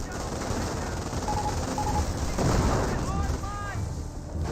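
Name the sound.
30 cal machine gun fire in Company of Heroes video game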